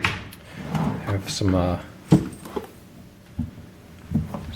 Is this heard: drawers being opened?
yes